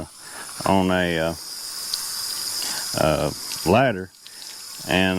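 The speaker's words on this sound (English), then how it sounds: "got the water hose on it, and it's just running for me to rinse this chicken off" Garden water hose running steadily at an outdoor rinsing station for a freshly butchered Cornish Cross chicken, a constant hiss and gush underneath someone talking in short bursts.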